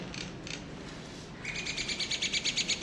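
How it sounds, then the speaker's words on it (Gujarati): Sparrows chirp nearby in quick repeated tweets, a couple of isolated calls first, then a fast rhythmic run of chirps, over faint background hiss. "ચકલા ધીરે ધીરે આવે છે"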